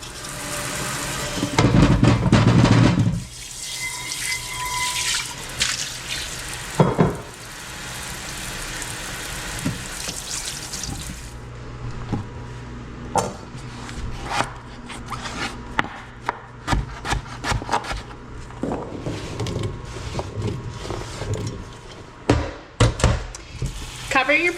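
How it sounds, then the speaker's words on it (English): Russet potatoes are peeled by hand in a kitchen, giving intermittent close scraping and rubbing strokes with small knocks and irregular pauses. "To do that, you just peel your potatoes."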